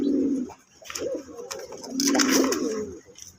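Pigeons offered for sale, including red-and-white birds, coo in low rolling phrases close by, several overlapping calls rising and falling across the moment.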